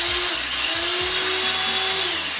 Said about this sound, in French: en faisant deux petits trous avec la perceuse